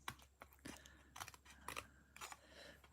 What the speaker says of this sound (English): my scissors aren't as sharp as I would like them to be